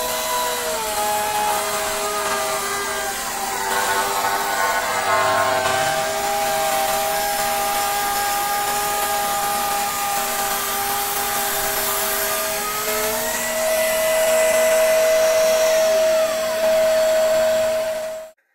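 A DongCheng DCMP6 cordless trimmer routes a meranti wood beam at speed, a steady loud high whine with shifting pitch as the bit cuts along the timber, winding down abruptly at the end.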